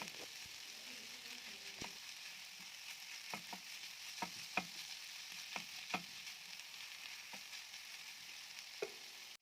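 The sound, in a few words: stirring chicken and tomato filling frying in pan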